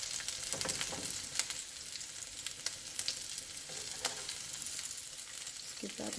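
Corn tortilla tacos filled with potato, chicken and cheese fry in hot oil in a pan, a dense, steady sizzle with crackles and faint scraping close by.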